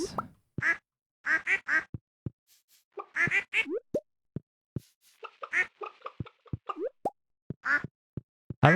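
Farm ducks in Stardew Valley quack repeatedly in bursts, mixed with short plopping blips and chicken-like clucks in an irregular, near, game-sound rhythm.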